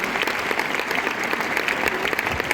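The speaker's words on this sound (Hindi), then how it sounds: "एक बार जोरदार तालियां मैनेजमेंट के लिए" Seminar audience applauding the management at a business success event, a dense steady clapping that holds at an even level for a couple of seconds.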